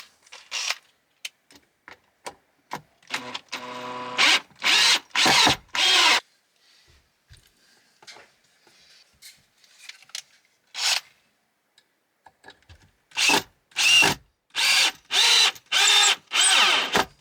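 A power drill driving into a wooden joist to fix a support in a garage conversion, several short bursts of whirring with pauses between them, close and loud.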